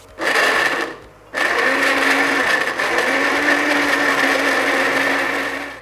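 A kitchen blender purees garlic with tomato for a vegetable curry: a short loud whir, a one-second pause, then a long continuous high-pitched blending roar.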